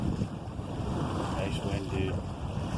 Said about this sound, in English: It is nice wind.